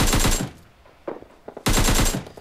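Automatic gunfire in the mobile shooter PUBG Mobile: two rapid bursts of sharp shots, close and loud, with a few scattered single reports in the short lull between them.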